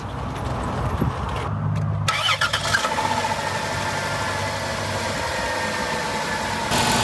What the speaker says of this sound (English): So now we are going to fire it up and check our transmission fluid